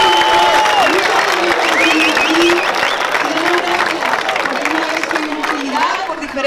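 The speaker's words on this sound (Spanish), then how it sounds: "Un aplauso a este país que nos ha acogido con tanto cariño." Loud crowd applause and cheering at a Chilean national holiday festival held in Spain, continuous clapping with whistles and lively voices mixed in throughout.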